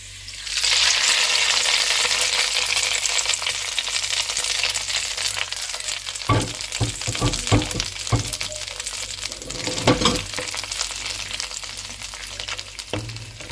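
Hot tarka tempering poured into a pot of mixed dal, giving a loud steady sizzle and fry hiss throughout, with a few sharp crackles and clinks of a utensil midway.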